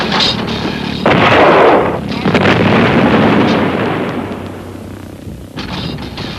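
Anti-aircraft guns with radio proximity-fuse shells firing in wartime, heavy booming bursts and rumbling reports, loud and close, with a voice faintly mixed in.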